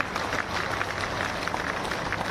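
Steady, dense audience applause fills a Bhopal public event welcoming Madhya Pradesh Chief Minister Dr. Mohan Yadav, a continuous wash of many hands clapping at even loudness throughout.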